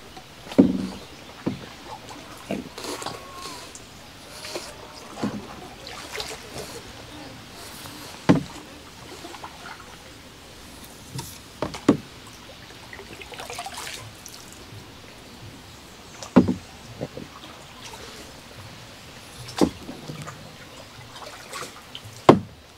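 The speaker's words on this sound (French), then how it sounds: "Oh, comme il rame bien, chef." Oars dip and pull as a small boat is rowed on open water, giving soft rhythmic knocks and splashes every few seconds over quiet ambient lapping, fairly faint and distant.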